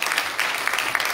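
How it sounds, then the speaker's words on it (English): A church congregation gives a brief burst of hand clapping in praise, quick overlapping claps that are moderately loud. "Give God a hand clap of praise."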